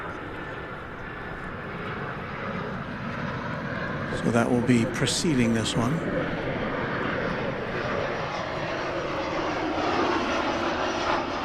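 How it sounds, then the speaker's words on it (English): A jet airliner landing at DFW Airport roars as a steady broadband rumble that swells as it passes, while someone talks over it in the middle. "And there's a plane landing right now."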